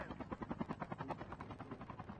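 A helicopter's rotor thumps in a fast, even rhythm throughout, steady and fairly faint, in the Call of Duty Mobile shooter game, with no talk over it.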